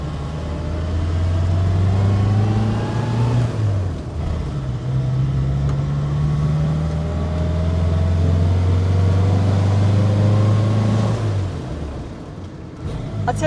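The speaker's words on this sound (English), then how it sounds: "Let me warm her up and then we'll go out for a drive." A 1950s Standard 10 classic car driving on the road, its small engine droning steadily loud and close, the pitch rising through each gear then dropping at the change, repeated several times.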